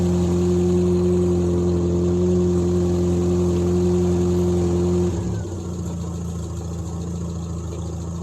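A British classic car engine idles at running temperature after carburetor tuning, a loud steady low rumble that drops to a softer, lower idle about five seconds in, heard close with no talking.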